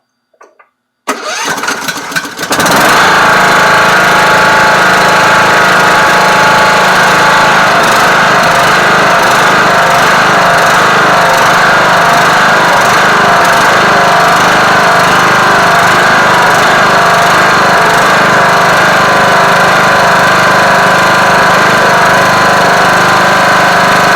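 A Husqvarna 21K46 riding lawn mower with a Kohler Courage engine cranks and fires, then runs loud and steady up close with a rough, slightly surging drone for over twenty seconds.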